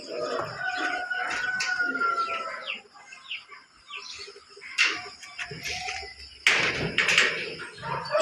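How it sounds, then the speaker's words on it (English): Poultry in pens on a farm, with roosters crowing and hens clucking, plus young hatchlings among them; a dense, overlapping chorus close by that grows louder toward the end, with no talking. "So all the birds in the pens over there, and the birds in here, our hatchlings, which we're going to keep."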